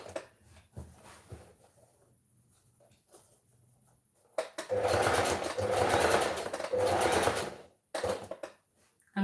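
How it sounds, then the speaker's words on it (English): A sewing machine stitching along a pressed line, first in short hesitant runs, then two longer steady whirring bursts of rapid needle clatter, close and moderately loud, with no talk. "I'm stitching right on top of that line that I pressed"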